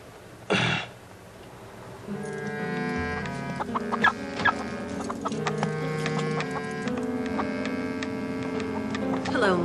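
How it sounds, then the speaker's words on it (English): A chicken clucks in short bursts over a steady electrical mains hum, fairly close, with a sharp thump near the start. "Hello, Mr. Chicken."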